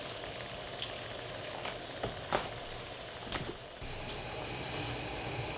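A splash of Pinot Noir hits a simmering puttanesca sauce in a pan, steady quiet sizzling and bubbling with a few brief clinks and stirring scrapes, close and without speech.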